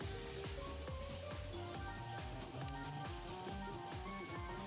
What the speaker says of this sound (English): add cut green pepper, paprika, curry roux, and curry powder, and fry all them.